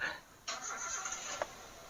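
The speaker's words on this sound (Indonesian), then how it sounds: "Nah ini mesin mobil bos, Toyota Avanza Veloz." A Toyota Avanza Veloz car engine catches abruptly and settles into a steady, close running hiss and hum, with one brief knock partway through.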